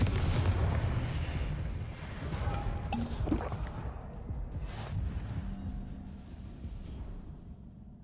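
Confringo blasting spell in the video game Hogwarts Legacy, a deep booming explosion with a heavy low rumble at the start that decays slowly, with a few crackling bursts and magical whooshes along the way.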